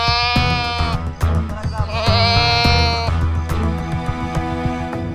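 An injured goat bleats repeatedly in loud, quavering cries, close and insistent, with short gaps between calls and some faint talk around them.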